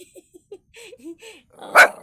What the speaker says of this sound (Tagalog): Kaya anong tahol mo ngayon?